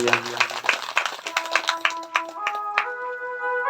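Audience members at a Shiv Mahapuran religious recitation clap in quick, sharp bursts that ring out over sustained devotional musical tones, the clapping fairly close and lively.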